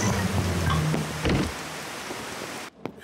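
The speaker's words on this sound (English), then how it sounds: "It's just about to rain." Steady cartoon rain from Peppa Pig hisses across the whole stretch as a broad wash of noise, briefly thinning out near the end.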